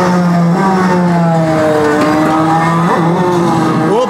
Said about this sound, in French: Moi je te fais des accélérations.